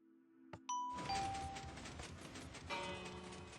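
Minecraft note block chimes ring out in a quick sequence of bright, bell-like tones, a click and a couple of clear pings followed by a fuller, sustained chiming wash, close and fairly loud.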